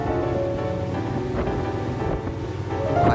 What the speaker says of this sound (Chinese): 快艇开得很快，